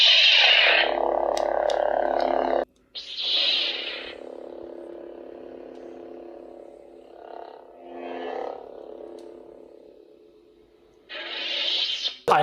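Blue Savi's Workshop lightsaber from Galaxy's Edge giving loud electronic ignition bursts at start and end, with a sustained low buzzing hum and wavering swing swells between them, alone without talk.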